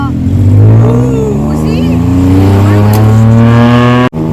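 A tuk-tuk speeds through Bangkok at night, its small engine droning loudly and steadily while the revs climb, with a brief sharp cut near the end.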